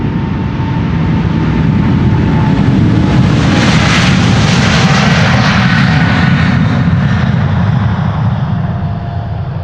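A jet airliner departs from the Polderbaan runway 36L at Amsterdam Schiphol Airport, a loud, steady engine roar with a broad hiss that swells mid-way during the takeoff roll and climb, heard alone at close range.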